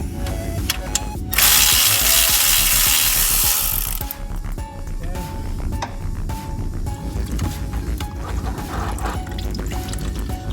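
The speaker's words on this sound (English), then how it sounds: "what I'm gonna do is remove that drain bolt" Removing a 12 mm drain bolt from a Honda Civic: a loud, steady whirring tool burst of about three seconds, then a series of small metallic clicks and rattles close by, with no speech.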